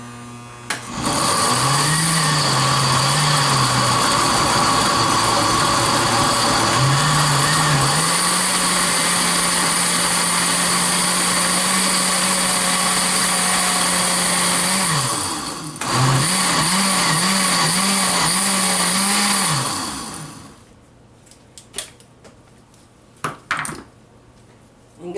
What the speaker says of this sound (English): I'm going to close this and I'm going to blend it